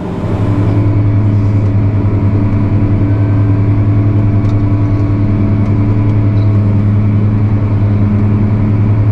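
A Fastrac 4220 tractor pulls away, its engine a loud, close, steady low drone with a throbbing hum that holds throughout.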